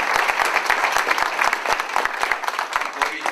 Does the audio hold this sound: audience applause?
yes